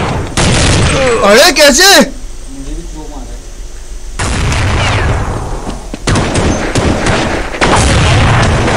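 Loud gunfire bursts from the game Counter-Strike 1.6 crack in rapid sequences, with dense rattling volleys near the start and again toward the end, while players talk over the shooting.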